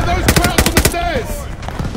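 A rapid string of sharp machine-gun shots in the Call of Duty Vanguard campaign, about half a dozen cracks in quick succession, followed by a brief voice and fainter shots.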